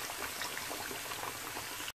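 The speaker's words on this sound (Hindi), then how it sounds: "मछली डालती है, फिश डालती" Fish pieces for Lahori masala fried fish hiss and bubble steadily in hot oil, a close, dense frying crackle lasting about two seconds and then cutting off.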